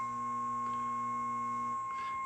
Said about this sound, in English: Can you hear the power supply humming?